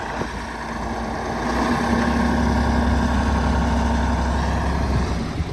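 An MTZ 82.1 tractor engine runs nearby in a farm setting, a loud, rough diesel rumble that swells slightly and holds steady without talking.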